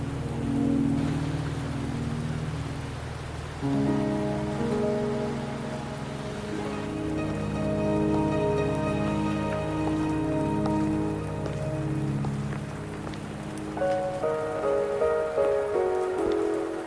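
Steady rain falls in the video game Wuthering Waves, a continuous soft hiss that sits under loud, sustained tonal music for the whole stretch.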